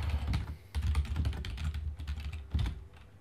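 Steady, rapid clatter of keys on a computer keyboard, close and continuous, with a few heavier keystrokes standing out over faint low room hum and no talking.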